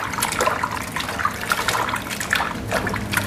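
Water poured into a bowl of salted young papaya slices, a steady close splashing and trickling that runs without break for a few seconds, with no talk over it.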